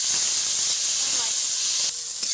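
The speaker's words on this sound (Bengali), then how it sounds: "এখন আমি এই তেলের ভিতরেই, এঁচড়ের ভাজা তেলের ভিতরে চিংড়ি মাছগুলো ভেজে নেব।" Shrimp frying in a wok of hot oil left over from frying jackfruit give a loud, continuous sizzling hiss that holds steady close-up throughout, with a few faint clicks.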